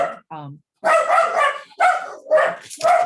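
A dog barks at a neighbor during a breakfast networking event, with several loud, close barks in quick succession mixed with a person talking.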